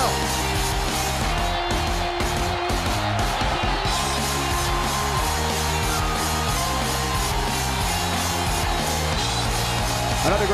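Wrestling crowd at an AWA event in St. Louis: a dense, continuous roar of fans cheering and whooping, with an announcer's voice and arena music layered over the noise.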